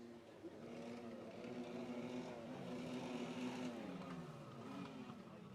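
Several two-stroke pro watercross watercraft engines at a Paris, Texas race firing up and revving together, a distant droning, wavering buzz that stays fairly faint and continuous throughout.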